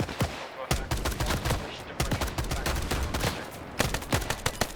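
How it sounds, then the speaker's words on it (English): Rapid automatic gunfire crackles in a military video game mission, dense bursts of machine-gun shots overlapping with single cracks, loud and continuous throughout. "Got 2 of them still shooting."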